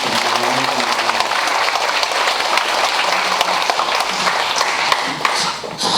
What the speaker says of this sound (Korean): 다시 한번 박수 한번 주십시오.